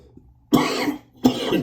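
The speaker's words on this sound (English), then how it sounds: "I have allergies to make my throat itchy and I have to cough." Two harsh, close coughs from a person with itchy allergic throat, each a loud abrupt burst trailing off, separated by a short pause in a workshop setting.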